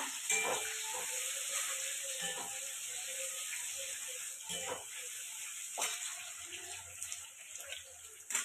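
Capsicum frying in a pan for chilli chicken, a steady close sizzle with occasional scraping stir strokes and light clatter throughout.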